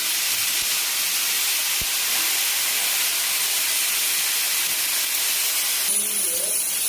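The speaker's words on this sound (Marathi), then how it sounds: "त्याच तव्यामध्ये आता ही भाजी पण आपण भाजून घेणार आहे" A steady, loud hiss of vegetables sizzling on a hot griddle pan, constant throughout with a faint clink or two.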